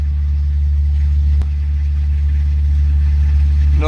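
A pony car's engine idles steadily with a deep, even low rumble, a single sharp tick cutting through partway before a brief rise at the end.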